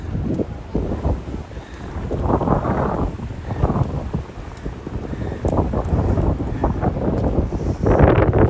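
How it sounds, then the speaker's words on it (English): Strong wind buffets the microphone continuously, a rough roaring rumble that rises and falls throughout with no one speaking. "it's gotten windy"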